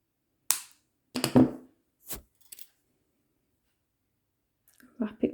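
Jewelry wire for a wrap pendant being snipped with cutters, a few sharp isolated clicks and snaps close up in a quiet room, separated by silence.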